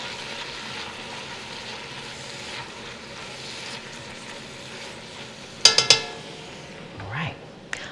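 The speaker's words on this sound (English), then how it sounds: "Just give that a little stir." Leeks and butter stirred in a pot, giving a steady low sizzle with soft scraping, then two sharp clinks of a utensil against the pot near the end.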